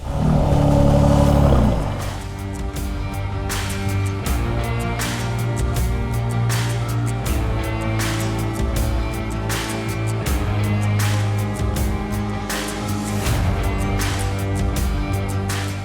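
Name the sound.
Mercedes-AMG S63 V8 engine starting and revving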